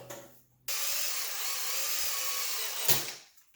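A drill boring a hole in a clear plastic ECU cover sheet for a 1988-91 Honda Civic/CRX, a loud steady whine lasting about two seconds, then a short scraping burst as the bit breaks through.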